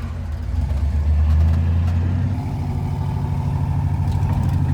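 Low, steady engine rumble from an LS-swapped 1971 Chevrolet C10 running low on fuel, idling and struggling under throttle with a slight uneven surge, loud and close with no voices.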